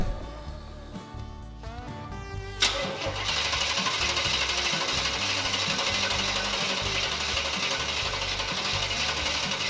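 A Chevrolet Squarebody pickup truck that has sat for six years cranks with a few uneven bursts, then catches and idles. The engine runs loud and steady, with a rough, knocking rhythm.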